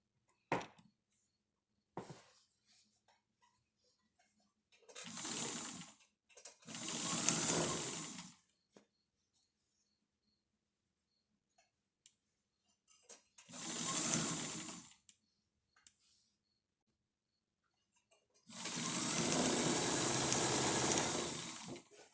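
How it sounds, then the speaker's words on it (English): A vintage sewing machine, white or dusty rose beige, stitches a baby sling with padded sides in several separate bursts of steady whirring, each a few seconds long, with quiet handling pauses between them. The last run is the longest. "I'm back at the vintage sewing machine."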